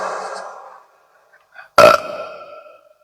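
A single loud, throaty burp erupts near the middle after a brief quieter sound, then tails off quickly.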